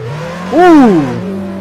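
A Mustang at a semi-pro drift competition sweeps past, the engine note rising and falling in one loud swell about a second long over a steady background rumble.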